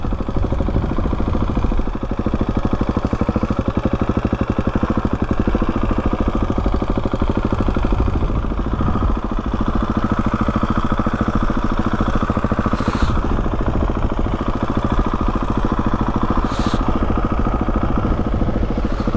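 A Husqvarna 701 Enduro single-cylinder engine idles steadily close by on a gusty Hardknott Pass, a continuous low throbbing drone with faint wind buffeting and occasional clicks over the whole stretch.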